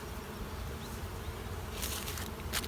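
Honey bees hum in a dense, continuous buzz around an open hive during spring management, faint but steady, with a few individual bees whirring closer near the end.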